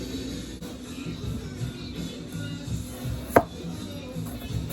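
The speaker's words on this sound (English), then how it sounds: "let's get to chopping potatoes" Potatoes being cut into a grid with a knife for a crockpot vegetable soup, soft repeated taps on a board at close range with one sharper knock partway through.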